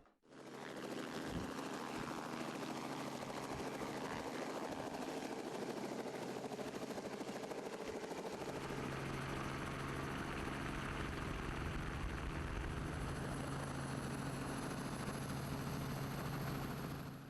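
A helicopter flies over the Bektashi world headquarters during the Sultan Nevruz festival, its loud, steady rotor and engine roar continuous throughout, with a deeper droning tone settling in partway through.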